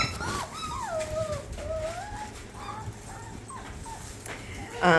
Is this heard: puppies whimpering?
yes